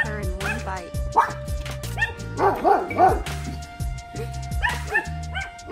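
Pomeranians and a larger dog bark and yip sharply at a fence, high and frantic in quick bursts, with whimpers mixed in, while a person talks over them.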